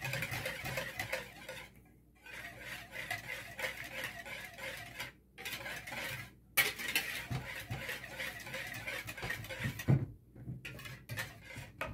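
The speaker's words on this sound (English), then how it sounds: "So I'm just going to mix this up and I'll show you the consistency of it." Gravy ingredients with smoked paprika being mixed for crockpot oxtails, a steady scraping and clinking of utensil against a dish with brief pauses, close and moderately loud, with no talking.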